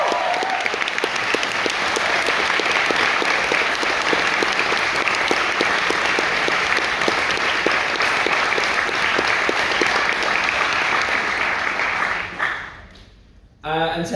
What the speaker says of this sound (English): I want to put together a round of applause for them.